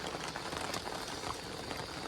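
Rain falls steadily on an outdoor farm cooking spot while chicken cooks over a flame, a soft, even patter of drops on surfaces with brief brighter taps, continuous and fairly quiet, with no voices.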